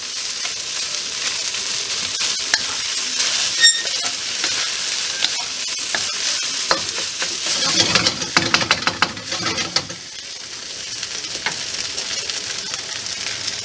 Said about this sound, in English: Now I'm frying.